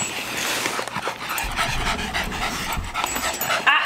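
Boston Terriers pant rapidly and steadily up close, with a possible soft whimper, and no one speaks over them.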